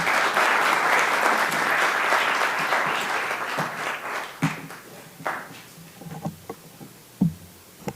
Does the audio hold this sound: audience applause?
yes